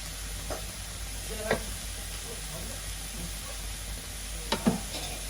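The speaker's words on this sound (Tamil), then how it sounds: "இது நல்லா வதங்கி வந்துட்டு இப்போ நல்லா தேங்காய் பூவும் போட்டு கொஞ்சமாக தூளும் போடுவோம்." Grated coconut and spice powder being sautéed and stirred in a pan, a steady frying hiss with a few scraping stirring clicks, no speech.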